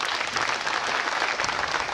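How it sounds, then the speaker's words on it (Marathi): Dense, sustained applause from a crowd at a political speech at a municipal council president's inauguration ceremony in Jat, steady and loud throughout with no talking. "जरा जोरदार टाळ्या वाजवा"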